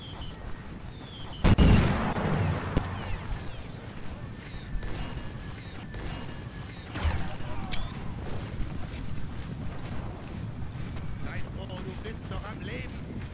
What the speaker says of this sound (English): I see the bullets flying by.